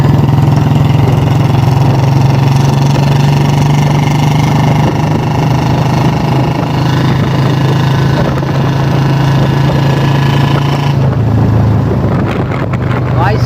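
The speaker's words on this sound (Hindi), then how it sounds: "सी टाइप बैंड डली हुई है मेरे बुलेट में। और भाई साइलेंसर है इसमें मिनी पंजाब" A Royal Enfield Bullet motorcycle fitted with a Mini Punjab silencer and C-type bend idles with a deep, steady thumping exhaust note, loud and close, holding an even rhythm throughout.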